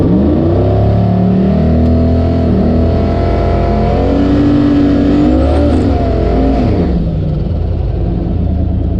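A junkyard 6.0 LS drag car with a GT45 turbo roars loud and steady at the drag strip, engine pitch climbing through a hard run for several seconds with no talk.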